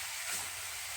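Vegetables frying in a pan over medium heat, a steady soft sizzle and hiss, faint and even throughout the moment with no talking.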